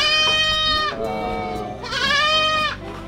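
Dairy goats bleat in long, loud, wavering calls, two drawn-out cries close by with a brief lull between them.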